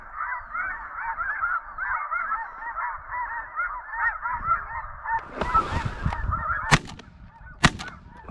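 A flock of snow geese honks steadily in flight during a spring hunt in Alberta, with dense overlapping calls throughout, then a few sharp gunshots cracking over the flock near the end.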